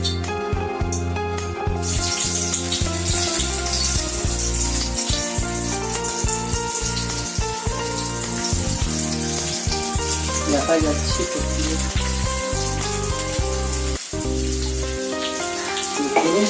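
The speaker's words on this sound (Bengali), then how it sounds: "এই সেদ্ধ করা হলুদ নুন মাখানো আলুটাকে আমি একটু ভেজে নেব" Boiled potatoes coated in turmeric and salt fry in hot oil with a loud, steady crackling sizzle that runs unbroken throughout, close by, with a brief voice at the start and occasional clinks.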